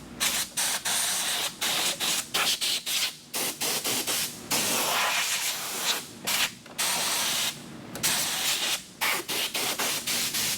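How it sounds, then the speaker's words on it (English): A compressed air gun blows debris out of a tractor radiator screen in loud bursts of hissing air, fired in short repeated blasts with brief pauses between them. "if you've got a compressed air gun, just blow it off. You know, blow it out sideways."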